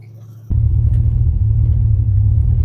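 An old, long-abandoned Pontiac car cruises along, its engine giving a steady, close, low rumble that swells after a quiet start.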